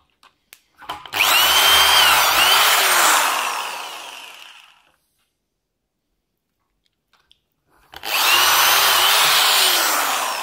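Power drill boring dowel holes into a wooden batten guided by a Wolfcraft dowel jig, two loud sustained bursts of a few seconds each separated by silence, the second cutting off at the end, no voices.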